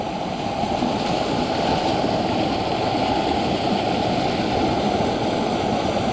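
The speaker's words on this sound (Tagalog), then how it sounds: "Ang laka ng tubig." Strong floodwater rushes loudly and continuously through a rice paddy after a typhoon, a dense, unbroken roar close by.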